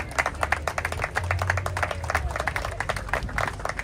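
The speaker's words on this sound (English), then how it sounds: "as you applaud for him" Audience at an outdoor Chicano Moratorium rally in Salazar Park applauding steadily, a dense, even patter of many hands clapping with a low crowd murmur underneath.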